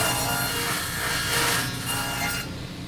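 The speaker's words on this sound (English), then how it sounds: "we can make this cut now. The first cut on the dado." A saw cuts the first pass of a dado in wood, giving a steady, close, loud whirring rasp that runs continuously before easing slightly near the end.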